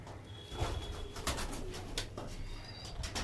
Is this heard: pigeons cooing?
yes